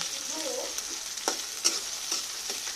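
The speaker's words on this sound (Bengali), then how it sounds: "প্রথমে আমি দুটা পেঁয়াজ দেখেন কড়াইতে তেলের মধ্যে লাল লাল করে নিতেছি" Onions sizzle and crackle steadily in hot oil in a wok, with a spatula scraping and stirring against the pan in a few light strokes, close up.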